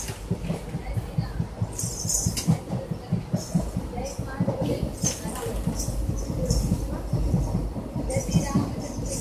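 Rhythmic clickety-clack and rumble of a train rolling along rails, heard from inside a carriage, steady and fairly close with people talking over it.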